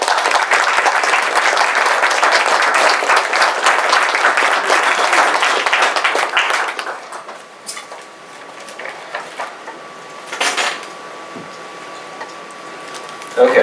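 An audience applauds to welcome speaker Tom Rice at a talk, a loud, dense clapping that carries for about seven seconds, then tapers to a few scattered claps and room noise.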